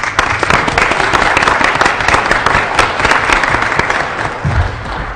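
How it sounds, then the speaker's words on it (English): Loud, dense applause from a large crowd, continuous clapping filling the whole stretch without pause. "So again, we applaud you."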